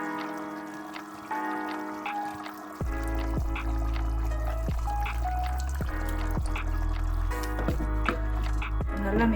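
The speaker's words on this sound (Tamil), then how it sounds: "இப்போ புளியை ஊற்றிடலாம்" Tamarind water poured into a simmering raw jackfruit curry, a steady liquid pour with soft drips and splashes over a low bubbling background, fairly close and continuous.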